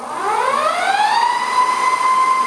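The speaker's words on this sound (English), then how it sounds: "So no load on the motor, full throttle." A GhostCat F2.2 e-bike hub motor spins at full throttle with no load, a whine rising steeply in pitch over the first second and then holding as a steady, loud electric tone.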